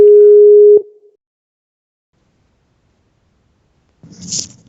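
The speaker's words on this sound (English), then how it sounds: "We are calling someone." A single steady telephone call tone sounds clearly for under a second, then gives way to a long silence before a short burst of faint noise near the end.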